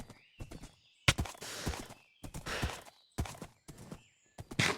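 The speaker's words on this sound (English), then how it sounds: "especially if there's just a random horse right here" Horse in the Minecraft game, with hoof clip-clops and short snorting sounds spread unevenly through a choppy mix of other game noises, moderately close, no voices.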